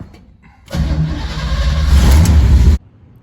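A car engine fitted with a Holley Sniper fuel injection setup cranks briefly, then starts and settles into a loud, rumbling run close by before cutting off abruptly, with no speech.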